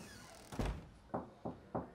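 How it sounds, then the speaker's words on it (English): A door in a TV drama gives one heavy thunk followed by three lighter, evenly spaced knocks or taps, close and fairly loud against a quiet background. "Door's open, Maggie."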